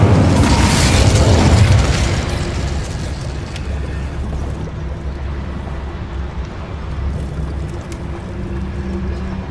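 The Incendio fire spell goes off in Hogwarts Legacy with a loud burst and a deep boom, then a long rumbling, crackling roar that slowly fades.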